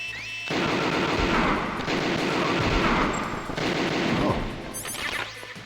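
Sustained automatic gunfire from the video game Metal Gear Solid, loud and dense rapid bursts that continue for several seconds before briefly dropping off near the end.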